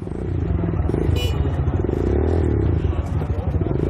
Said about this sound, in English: My bike is quite loud here